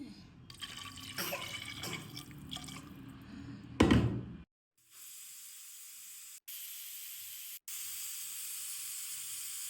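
Water splashes and pours noisily into a cooking pot for a few seconds, then a steady, loud hiss of steam, like a pressure cooker whistle, takes over with brief breaks.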